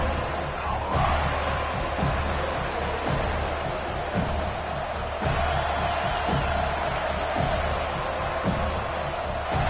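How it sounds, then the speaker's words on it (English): A stadium crowd in the NCAA 25 college football video game roars as fans rally behind the defense on third down. The cheering stays dense and continuous, with rhythmic claps or stomps cutting through at regular intervals. "Decibels rising as the crowd gets behind this defense on third down."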